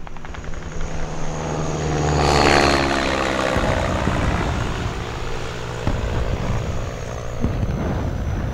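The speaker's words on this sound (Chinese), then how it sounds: "鬼子的飞机是往西边去了。" A Japanese military airplane passes overhead as a film sound effect, its engine and propeller drone swelling to a loud peak and then fading into a steady, rumbling wash.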